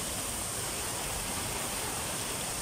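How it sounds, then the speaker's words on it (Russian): A large waterfall near a restaurant and café in Livadia sends up a dense, steady broadband roar of rushing water that fills the whole stretch with no change and no voices. "Вот, смотрите, какой водопад прям серьезный."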